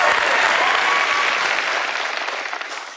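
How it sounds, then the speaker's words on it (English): A studio audience claps in a dense burst of applause that gradually fades over about three seconds, with some voices faintly mixed in. "Audience, let me hear you clap"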